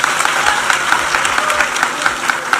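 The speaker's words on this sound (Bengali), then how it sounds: "একটা হাততালি" A crowd at a political rally applauds with dense, steady clapping that carries on loudly for a couple of seconds without a break.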